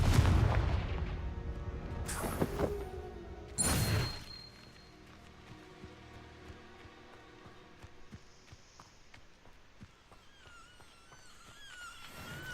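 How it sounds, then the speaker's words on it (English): A Confringo fire spell in Hogwarts Legacy lands as two sharp, loud blasts close together near the start, each with a short rumbling tail, before the scene settles into quieter ambient game sound with faint footsteps. "Confringo."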